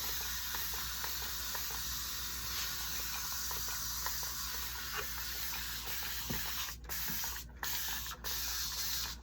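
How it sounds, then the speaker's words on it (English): A handheld spray bottle misting water onto cardboard for a rustic Halloween craft, giving a steady hissing spray that runs nearly throughout at close range, with a few brief pauses near the end. "And here's my spray bottle. I'll probably have to wet it several times."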